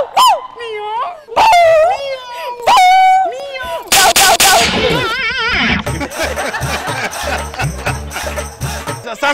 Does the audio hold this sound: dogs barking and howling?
yes